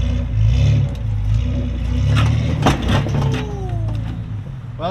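Off-road vehicle engine on slickrock revving loudly as the driver throttles up a rock ledge, a steady low growl with a surging climb midway, heard close with a faint voice at the end.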